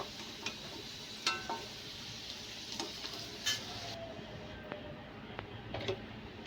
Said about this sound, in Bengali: প্রত্যেকটা আলু যেন ভালোভাবে ভাজা হয়ে যায়, সেরকমভাবে ভেজে নিতে হবে।